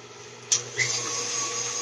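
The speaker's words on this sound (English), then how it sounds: "I'm using my whisk attachment." An electric mixer with a whisk attachment whirs as it starts beating butter and cream cheese, a steady high motor whine after a brief clatter at startup, close and moderately loud.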